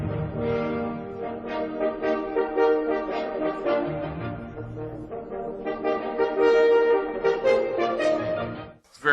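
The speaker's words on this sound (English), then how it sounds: "I want you to listen to the very end, the rising scale in the horn." Orchestral horn playing an even rising scale at the close of Beethoven's Eroica Symphony, sustained brass tones climbing over full orchestra, loud and steady throughout with a sudden cutoff near the end.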